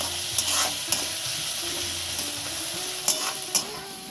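Ghee sprinkled over banana flower curry (mochar ghonto) in a pan, with steady sizzling and frying under a few sharp clinks and stirring scrapes, close and fairly loud.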